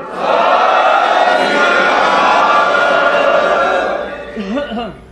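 A large crowd at a Sikh gathering roars the jaikara response together in a sustained, loud collective shout that fades out, with a few voices trailing at the end.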